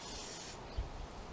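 A spray paint can hissing onto a clean, sanded aluminium antenna mount, with a steady close hiss for about half a second, then a brief knock and softer rustling.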